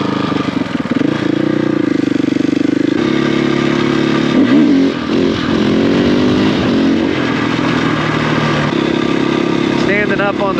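A KTM 500 EXC-F dirt bike ridden off-road on a dirt trail, its single-cylinder engine droning steadily up close with shifting revs and some clatter throughout.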